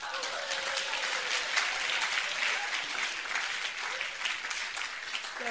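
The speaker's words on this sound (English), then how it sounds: "Clap for me." An audience at a church camp service applauds, a dense, steady patter of many hands clapping at once that keeps going for several seconds without letting up.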